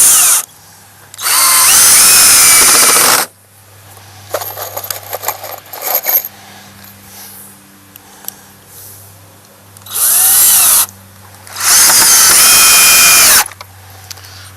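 A power drill drives screws into the wooden ends of a raised garden bed, giving four loud whirring bursts of a few seconds each, separated by quieter handling clatter and knocks.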